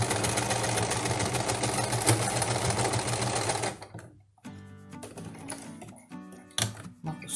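Sewing machine running steadily as it stitches a long-sleeved shirt for a cloth doll, then stopping, followed by fainter clicks and handling of the machine up close.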